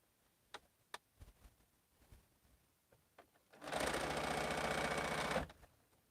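After a few soft clicks and taps, a sewing machine whirs in one steady burst of about two seconds while piecing a Bento Box quilt block, then stops.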